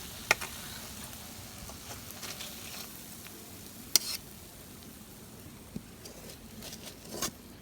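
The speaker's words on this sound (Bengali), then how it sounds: "এই তেলে ভাজা ভাজা হয়ে গেছে" Small river fish cooking with potato and eggplant sizzle faintly in oil in a pan, a soft steady crackle broken by a few sharp ticks and pops.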